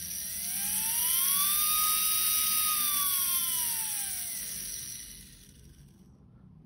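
A small DC motor on a speed controller circuit whines nearby in a high steady whir that rises in pitch, holds, then slowly winds down and fades.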